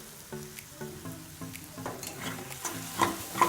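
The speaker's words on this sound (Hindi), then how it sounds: "मिक्स करेंगे।" Turmeric, Kashmiri red chilli powder, coriander powder and salt stirred in a pan for chicken pulao, with a spoon scraping in a few steady strokes over a soft sizzle, close and clear.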